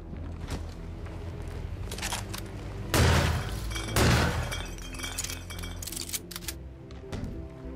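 Video game gunshots in Hitman 2 (2018), two heavy blasts a second apart among glassy clinks and breaking sounds, set against a busy background of game noise.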